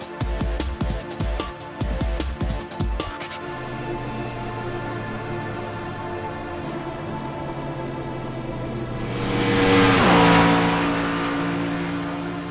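A NASCAR race car engine roars in the iRacing video game at Daytona International Speedway, with rapid revving bursts at first, then a steady droning engine note that swells loudly as the car sweeps past.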